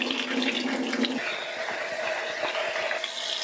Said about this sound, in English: So I'm gonna use this wonderful strainer to strain the meat.